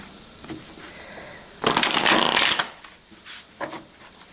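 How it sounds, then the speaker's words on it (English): Tarot cards being shuffled in a quiet room, a dense riffling burst of about a second followed by a few softer card shuffles and taps. "I'm just going to shuffle one more time and then cut the deck"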